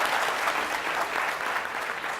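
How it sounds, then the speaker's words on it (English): A TEDx audience gives a steady, dense round of applause, many hands clapping evenly and continuously with no voices standing out. "the best thing about being on stage is hearing the round of applause"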